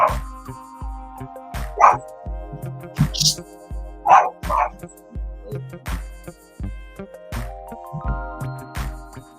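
A pet dog barks and yips repeatedly at home, a string of sharp close barks with short whimpering yelps mixed in, irregular and loud, over faint background tones.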